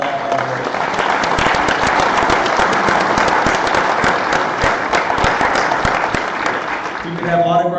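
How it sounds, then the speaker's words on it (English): A crowd at a political party meeting applauds steadily, with dense clapping that holds at full strength for several seconds before a voice begins at the end. "give yourself a round of applause"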